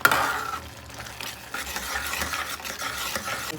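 Thick pav bhaji mixture stirred in a pan, a soft continuous sizzle under repeated scraping and mashing strokes, close and moderately quiet, no voices.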